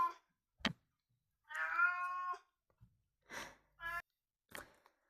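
A female cat meows several times alone in a quiet room, a mix of short sharp calls and a longer drawn-out yowl, with pauses between them.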